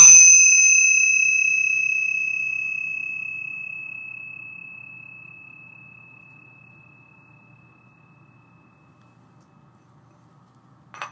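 Tingsha cymbals struck once ring out clear and high, the tone lingering and fading gradually for around nine seconds, followed by a faint clink at the end; no speech.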